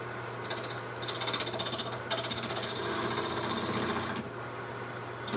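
Bowl being turned on a wood lathe with a very small gouge: a steady machine hum with bursts of rapid, buzzing chatter as the tool cuts, fairly close, with no talk.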